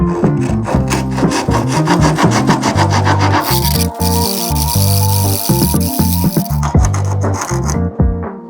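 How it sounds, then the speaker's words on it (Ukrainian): A small, very sharp multitool saw cuts through a wooden block in quick, rhythmic back-and-forth strokes, close and loud, with brief pauses between bursts. "Далі продемонструю невеличку, але дуже гостру пилочку."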